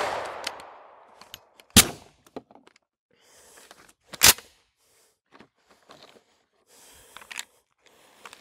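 Mossberg 500 pump-action shotgun fired twice with sharp, loud reports about two and a half seconds apart, separated and followed by quieter clacks and metallic clicks of the action being racked and handled; no talking.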